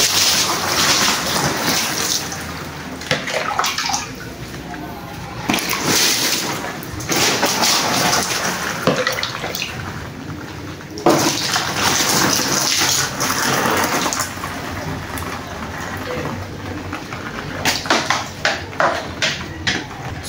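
Water is poured over a waterproof cover on a Rider 150 Fi motorcycle, giving a broad, splashing hiss in several bursts with short pauses, close and fairly loud, with no talking.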